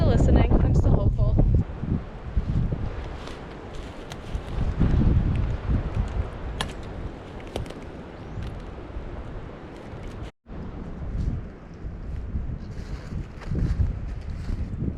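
Wind and steady rain sweep through maple woods during a spring sugaring season, a continuous broadband rush with gusty swells and rustling, loud and close throughout, with one brief dropout near the end.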